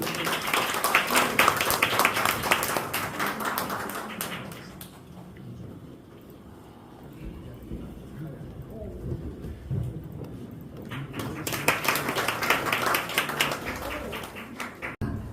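Audience applause welcoming a violinist onto the stage at a presentation event, loud clapping from a crowd that fades to a lull of murmuring and shuffling, then swells again into a second burst of applause.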